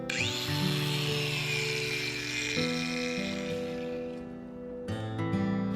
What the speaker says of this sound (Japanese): 厚さ4ミリのステンレスをグラインダーでカットします。